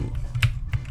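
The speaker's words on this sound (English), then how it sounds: "Just for the listeners, I'm typing, not Googling stuff, just simply writing down answers." Someone types answers on a computer keyboard: a few quick, close key clicks in a short uneven run against a quiet background.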